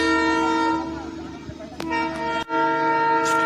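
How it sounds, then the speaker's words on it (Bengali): A hill-station toy train sounds a sustained, loud, tonal horn that breaks off briefly and resumes, with rumbling rail noise underneath in misty, cloud-covered hills. "টয় ট্রেনের তো শব্দ তোমরা শুনতে পাচ্ছ"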